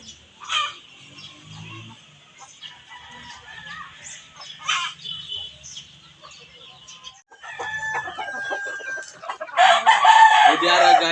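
Chickens cluck sporadically nearby, then a rooster crows loudly toward the end, amid scattered bursts of farmyard noise.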